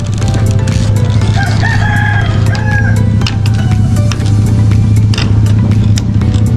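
Texas chickens crow and cluck in a backyard flock, several close crows rising over steady clucking and a low engine hum from nearby traffic.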